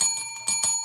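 A bright bell sound effect rings in a quick series of three or four sharp metallic strikes, each leaving a sustained shimmering tone.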